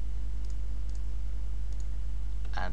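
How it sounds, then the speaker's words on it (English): A computer mouse button gives one sharp click near the end, with a few fainter clicks earlier, all over a constant low electrical hum. "click on the object"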